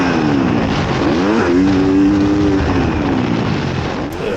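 A motocross bike on a fast lap at Riverglade, a Canadian pro national motocross track, gives a loud, continuous engine drone. Its pitch rises and falls as the rider accelerates and backs off through corners.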